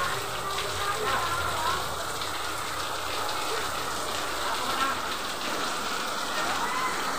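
Light rain falling outside a house that is flooding inside, a steady dense hiss of rain on surfaces with scattered droplet patter, close and constant.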